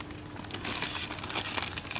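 Plastic food packets are handled in a supermarket, giving soft crinkling and rustling in irregular small bursts, close and fairly quiet, with no talking.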